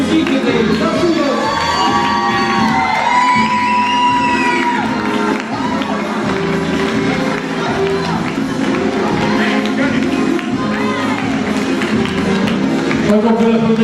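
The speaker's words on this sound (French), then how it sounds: "Donc on peut l'applaudir bien fort." Loud cheering, whoops and applause from a festival crowd, children shouting among them, greet a pageant candidate at a village festival queen election; a dense, continuous roar with music and voices running throughout.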